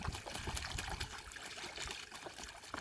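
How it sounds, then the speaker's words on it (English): Water gushes and splashes from a garden hose knocked loose by a gosling on a farm, a close, continuous trickling and spattering with no voices. "Oh, he just knocked that hose out."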